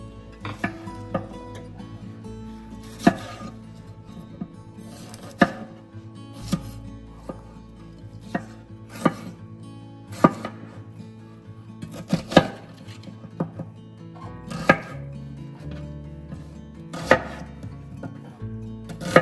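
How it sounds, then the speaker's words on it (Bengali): Green, red and yellow bell peppers are diced into large cubes on a board, a series of distinct knife chops landing at irregular intervals, close and fairly quiet. "সবজিগুলোকে ওই green paper, red paper, yellow bell paper মানে ক্যাপসিকাম সবগুলোকে একটু বড় বড় করে কিউব করে করে কেটে নেবেন"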